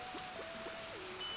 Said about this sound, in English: That started raining very fast.